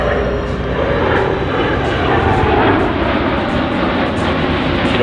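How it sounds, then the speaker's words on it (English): A Boeing C-17 Globemaster III jet passes at over 350 miles an hour during an airshow demo at Miramar, a loud sustained roar of engines close by with a faint voice mixed underneath. "Maximum speed of this airplane is 515 miles an hour, coming through at over 350 miles an hour right now."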